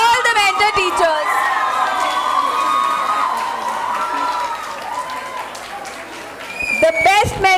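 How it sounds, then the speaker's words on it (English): Audience cheering, whooping and clapping for mentor teachers at a youth grand finale event, a loud crowd roar with young voices shouting, swelling and then easing off before talk resumes. "Let's give a huge round of applause to all the mentor teachers."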